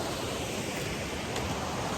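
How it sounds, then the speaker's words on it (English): Wolf Creek rushes down the mountain toward the Hiwassee River, a broad, steady roar of flowing water close by with no voices. "So Wolf Creek's coming down the mountain just to my right"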